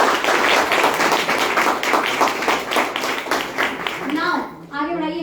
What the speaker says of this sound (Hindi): ताली बजा सकते हैं तेज से